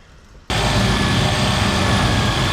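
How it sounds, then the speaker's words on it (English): A Sawzall reciprocating saw starts abruptly after a moment of quiet and runs loud and steady through pallet wood, a dense continuous buzzing roar close by. "So I'm gonna try a Sawzall."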